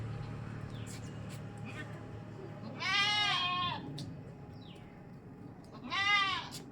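Two pregnant dairy goats on a farm give two loud, clear bleats about three seconds apart over a quiet, hum-filled background.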